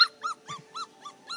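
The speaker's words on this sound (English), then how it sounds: "That's Val's puppy." A puppy makes small rhythmic growling yips, six short evenly spaced bursts in quick succession, close and fairly quiet with no talking.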